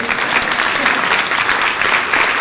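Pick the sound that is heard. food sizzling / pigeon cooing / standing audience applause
standing audience applause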